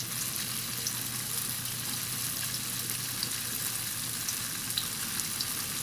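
Steady, even sizzling of fresh tofu skin frying in a pan, a constant crackling hiss with faint bubbling, close by and uninterrupted.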